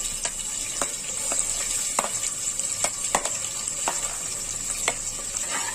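Onions sizzle in hot oil with fennel seeds, cinnamon, cloves and cardamom, a steady close hiss broken by scattered sharp crackles and pops from the spluttering pan.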